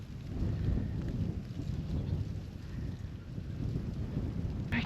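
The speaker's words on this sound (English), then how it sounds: "But hear the wind? The wind's still blowing." Steady wind gusts through an ice storm in southwestern Kentucky, a broad continuous low roar filling the whole stretch with rain-like patter mixed in, no talk.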